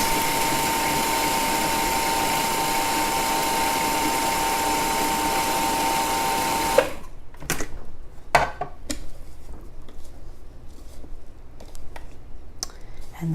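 A food processor cuts half a cup of butter into an oat and nut gluten-free pie crust mix, whirring loudly and steadily for about seven seconds, then stopping, followed by scattered clicks and clatter.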